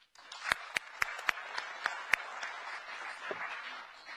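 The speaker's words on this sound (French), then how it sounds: "je vous demande en cette période historique, en ce moment historique, de vous applaudir fortement pour votre présence aujourd'hui" An audience at a speech event applauds, several loud separate claps at first, then filling into steady, moderately distant clapping that continues to the end.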